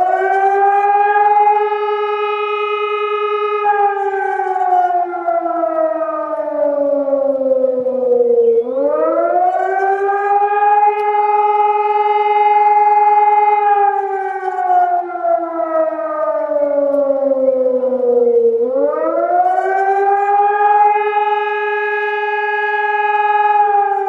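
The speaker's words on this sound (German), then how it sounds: "ein Ton, der eine Minute lang geht und zwar auf- und abschwellend" Civil defense siren sounding loud and alone with a long rising and falling wail, sweeping up and down in slow cycles of roughly ten seconds, part of a one-minute alert tone.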